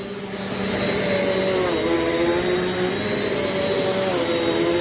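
Eureka NEU10AE4 bagless upright vacuum cleaner running on carpet, a loud steady motor whine with a slight rise in pitch as it pushes along, continuous and close with no talking.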